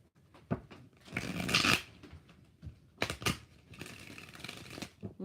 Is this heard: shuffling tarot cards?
yes